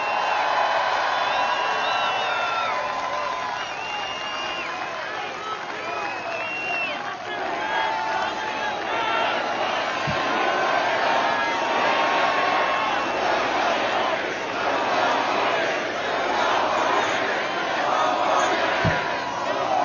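Large rally crowd in an arena in Manchester cheering and shouting continuously, a loud dense roar of many voices with whoops rising and falling throughout.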